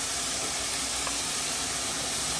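Steady, loud hiss and sizzle as star anise and panch phoron hit hot oil for a Bengali chicken roast, a continuous bright frying crackle with no breaks.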